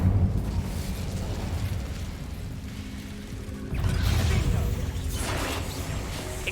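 Casting the Incendio fire spell in Hogwarts Legacy sets off fiery whooshing bursts and booming eruptions, with a fresh loud blast partway through over a rumbling game soundscape.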